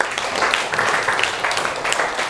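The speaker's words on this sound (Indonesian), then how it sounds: "Tepuk tangan untuk kita semua." A classroom of students claps together at the end of a lesson, a dense, even patter of many hands lasting a couple of seconds.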